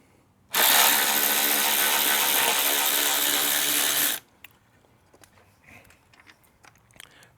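A cordless ratchet with a long head spins a bolt in one continuous loud whirring burst of about three and a half seconds, then stops, leaving faint handling clicks and rustles nearby.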